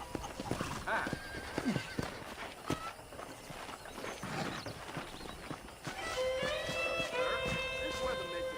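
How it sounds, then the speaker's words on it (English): Horse in Red Dead Redemption clip-clopping along with hooves thudding, then giving a clear, drawn-out neigh near the end, set against outdoor game ambience. "I picked out a fine horse for you."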